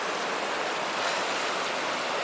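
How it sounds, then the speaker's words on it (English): Lyle Creek in Yosemite rushes steadily beneath a small footbridge near the Tuolumne campground, a dense, even roar of flowing water close by with no voices over it. "Look at the water flowing under here."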